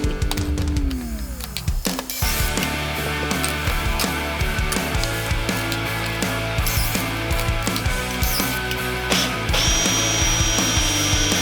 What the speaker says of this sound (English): Today we are going to drill some pocket holes.